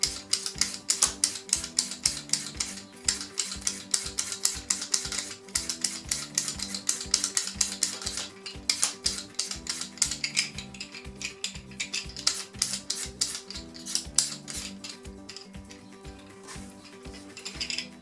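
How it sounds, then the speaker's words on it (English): A carrot being peeled with a peeler, a rapid, regular run of short scraping strokes close up that continues steadily throughout, with no talk. "For my carrot, I'm going to peel the wide end first."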